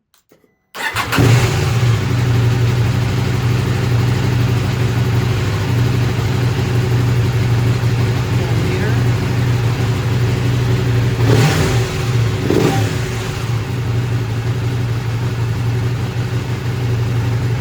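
A 2019 KTM 790 Adventure S motorcycle engine starts up and runs steadily, loud and close, with a couple of brief revs rising above the idle partway through.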